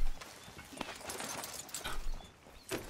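Horse hooves clip-clopping steadily on the ground in Red Dead Redemption 2, moderately close and rhythmic amid ambient game noise.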